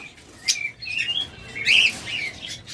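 Lovebirds in a bird shop give a few sharp, bright chirps and tweets, close and irregular, over a quiet background hiss.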